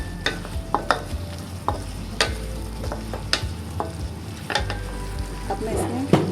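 Kung Pao chicken with black pepper is stirred in a hot pan, a steady close sizzle with frequent scraping and clacking spatula strokes throughout.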